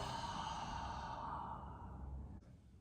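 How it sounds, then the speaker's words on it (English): A single long, soft breath is pushed out through the mouth during a guided breathing exercise, close and steady, then fading to quiet near the end. "And then exhale through the mouth."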